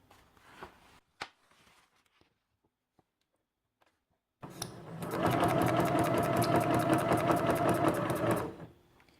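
Sewing machine needle stitching through paper, heard alone as a steady, fast, even-paced run of about four seconds after quieter handling and a few isolated clicks.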